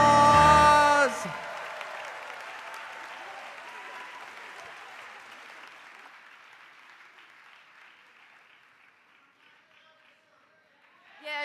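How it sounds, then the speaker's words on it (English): An audience applauds at a spring commencement ceremony after a brief burst of tonal sound, the clapping swelling at first and then thinning and fading out over several seconds. "give them a round of applause"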